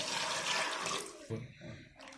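Water pours and splashes into a pressure cooker for black chickpeas, a fairly quiet gushing stream that breaks up into smaller splashes near the end.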